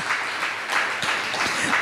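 A church congregation claps together during a sermon, a steady wash of applause lasting a couple of seconds with no voices over it.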